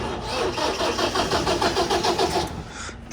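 A tractor engine with a broken choke cranks and catches, chugging loudly in a steady rhythm close by for about three seconds before cutting off abruptly, with no talk.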